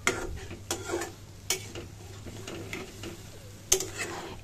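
An egg and hog plum curry cooked in coconut milk is stirred and sautéed in a pan, with a soft sizzle under repeated scraping strokes and a sharp clink of utensil on pan.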